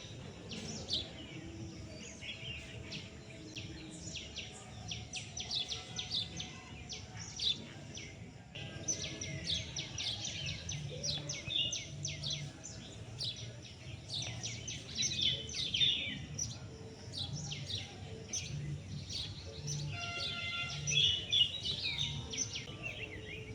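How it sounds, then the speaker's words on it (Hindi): Parrots, bulbuls and sparrows chirping at Jaunpur fort, a dense, continuous chorus of twitters and tweets at moderate distance, with low background murmur beneath. "बस चिड़ियों की आपको चहचहाहट यहाँ पे सुनाई देगी"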